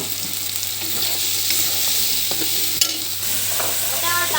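Small shrimp and two tengra fish fry and get stirred in a home kitchen pan, a loud continuous sizzle with scraping spatula strokes and a sharp clatter near the end, no voices.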